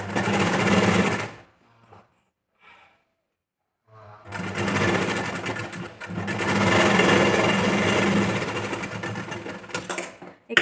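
A sewing machine stitches a strip onto a princess-cut, back-open blouse: a short burst of stitching stops, a few faint taps follow, then a long steady run of stitching ends with a click.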